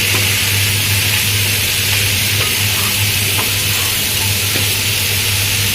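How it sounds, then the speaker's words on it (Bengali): Boiled banana flower is stirred into cooked spices in a hot pan for a vegetarian mochar ghonto: a loud, continuous sizzle with scraping stirring strokes, close up and without speech. "এবারে আমি সেদ্ধ মোচাটা দিয়ে দিলাম। খুব ভালো করে নেড়ে চেড়ে ঢাকা দিয়ে দেবো।"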